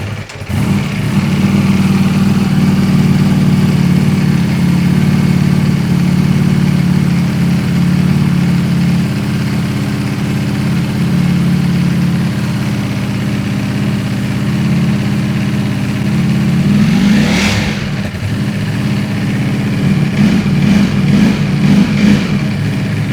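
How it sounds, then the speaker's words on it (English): A salvaged Ducati Panigale V4S fires up with a deep, loud steady idle that holds for long seconds, then a brief rev swells and settles back before another rise at the end. "if I fire the bike up, we should have a functioning throttle and should be able to hear this thing rev up for the first time"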